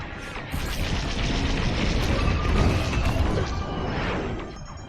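Starfighter weapons blast in Star Wars Squadrons, played in VR, a dense run of rapid laser shots and booming impacts layered over engine roar, loud and continuous for several seconds.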